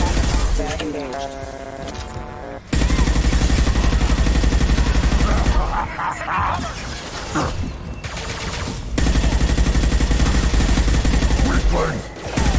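Sustained automatic weapon fire in Mass Effect Legendary Edition combat, long loud bursts broken by short pauses, with game voices calling out between volleys.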